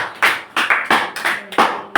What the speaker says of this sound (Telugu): గట్టి చప్పట్లు కొట్టను ఒకసారి